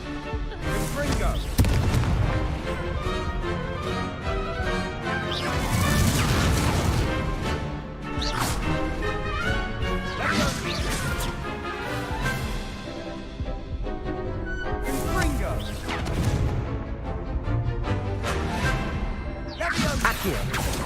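Repeated Confringo fire-spell blasts in Hogwarts Legacy, dense booming explosions and crashes layered over game music, with a short spoken spell cast mixed in.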